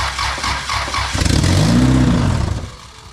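Engine of a turbocharged 1999 Honda Civic cranking on its first startup: a loud, close starter whir building into a rhythmic churning crank that fades without catching.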